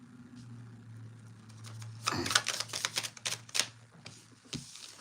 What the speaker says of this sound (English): I just shuffled, and the Devil came out and hit the table.